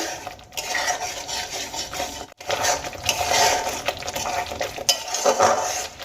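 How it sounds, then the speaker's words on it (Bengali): Chicken with spices and added ingredients is mixed in a pan for Bengali-style chicken bhorta, with continuous close scraping and clinking of a utensil against the metal. "এবার দিয়ে দেওয়া উপকরণগুলো খুব ভালো করে মশলার সঙ্গে মিশিয়ে নেব"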